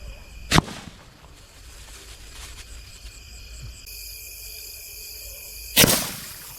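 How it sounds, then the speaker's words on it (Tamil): Homemade rocket sky shot firecrackers burst low instead of climbing high. Two sharp, loud bangs sound several seconds apart over a steady outdoor chirp of crickets. "இப்போ வச்சது பார்த்தீங்கன்னா மேலே போல கீழே வெடிச்சிருச்சு"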